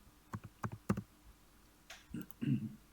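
Mouse clicks on a computer come as sharp, close taps: a quick cluster of clicks early on, then a few duller knocks and rustles near the end, with no talk over them.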